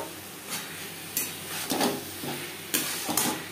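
Potatoes with red chili powder and spices are stirred in a sizzling pan for a pangas fish curry, with several distinct scraping strokes of the spoon over a quiet frying hiss and no talk.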